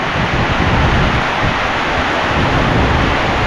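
Heavy mountain rain pouring down as a dense, steady roar that stays loud and unbroken throughout, with low rumbling underneath and no voices.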